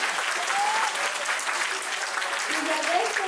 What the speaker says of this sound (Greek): Ένα χειροκρότημα για μένα.